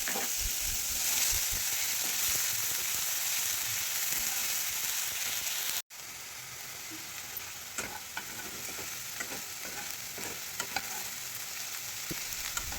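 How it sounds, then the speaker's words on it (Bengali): Onion, ginger and garlic paste frying in a pan for a light katla fish curry with thankuni leaves, a steady close sizzle with scattered crackles and stirring, briefly cutting out midway before resuming. "এরপর দিয়ে দিলাম পেঁয়াজ আদা রসুনের পেস্ট"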